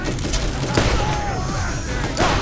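Heavy revolver-like sniper shots in the Borderlands video game, a few loud close blasts amid continuous battle noise, with speech faintly present underneath.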